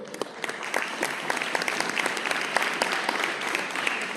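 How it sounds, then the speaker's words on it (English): A crowd claps steadily in sustained applause, dense and even throughout, with a few sharper claps standing out. "round of applause to all of you as members for that work"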